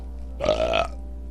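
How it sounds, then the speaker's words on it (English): A single drawn-out belch after eating two Fruity O's cereal bars, loud and close, lasting about half a second with a throaty, voiced rumble and no talk around it. "The proof is in the belching"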